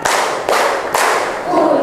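A group claps together in rhythm for an ice-breaking clap game, three loud unison bursts evenly spaced, followed by a brief voice.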